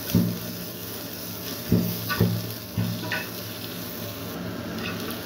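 Vegetables sizzle in hot oil in a pan with a steady frying hiss, broken by a few sharp scraping stirs of a utensil against the pan.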